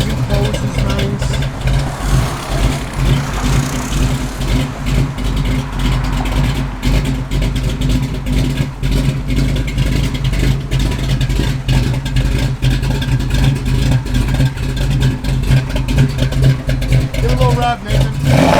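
A 1966 Chevrolet Nova SS engine with a cam runs steadily at a loud, continuous rumble throughout, with someone talking over it.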